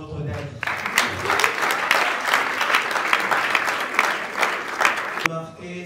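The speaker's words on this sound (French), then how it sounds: "Est-ce qu'on peut applaudir pour notre Daddy?" Audience applause at an award ceremony honouring Congolese cinema, a loud, sustained burst of clapping that starts suddenly and stops abruptly near the end, with a voice heard briefly before and after.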